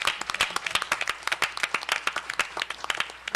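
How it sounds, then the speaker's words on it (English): Audience at a regional economic development council meeting applauding, a brisk, moderately loud patter of many hands clapping steadily throughout. "can we give the Mohawk Valley REDC another big round of applause for a great job?"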